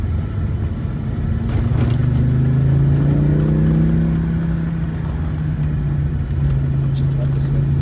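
A rusty Audi Ur Quattro's five-cylinder engine drones from inside the cabin as the car accelerates, with a rising and then steady engine note over a low rumble of road noise.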